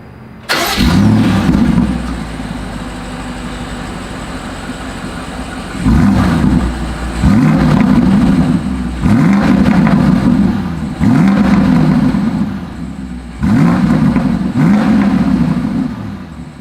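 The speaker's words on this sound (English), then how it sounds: "As always, here is that exhaust clip." A 2022 BMW X5 SUV engine cranks and catches, then revs sharply several times in short bursts, each rise settling back to a rumbling idle, loud and close.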